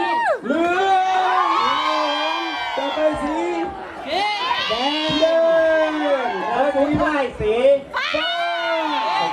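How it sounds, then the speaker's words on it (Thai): A lively crowd cheers, whoops and shouts in bursts at a traditional Lanna coconut grating contest, with a voice calling out over the noise. "ไปเชียร์สีชมพูยกมือขึ้นอ่ะเชียร์เลย"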